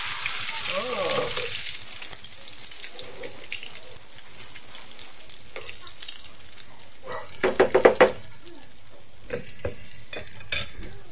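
Tortang corn beef, a corned beef omelette, frying in a pan with a steady close sizzle, joined by brief stirring and scraping clatter, with a louder burst of activity midway through.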